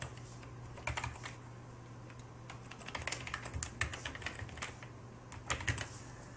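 Clusters of crisp keystrokes on a computer keyboard, close and moderately quiet, come in irregular bursts over a faint steady hum while a URL is entered, with no speech.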